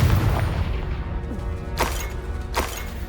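Confringo fire spell explosions in the video game Hogwarts Legacy, with two loud booming blasts rising over a dense rumbling game soundscape.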